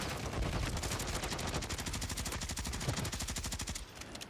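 Sustained automatic gunfire from an enemy in Warzone, a rapid, steady stream of loud shots lasting several seconds with no talk.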